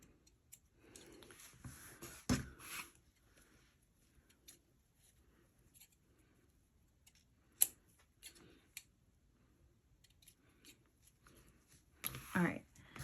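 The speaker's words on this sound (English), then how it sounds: "I'm just going to snip some thread here as well." Scissors snipping thread while trimming sewn pieces of a lined dress, a few soft, sparse cuts spread among quiet pauses and faint handling noise, with a couple of louder clicks.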